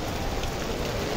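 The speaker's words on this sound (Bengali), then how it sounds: "বৃষ্টি পড়তেছে" Steady rainfall patters densely on surfaces during a downpour near a smoking fire, an even, continuous hiss of drops with no voices.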